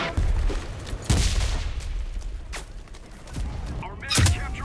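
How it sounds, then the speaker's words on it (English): Artillery explosions landing in the Enlisted war game, a few heavy booms spaced a couple of seconds apart with distant gunfire in between, voices and battle chatter running underneath. "Artillery! Fire at the square!"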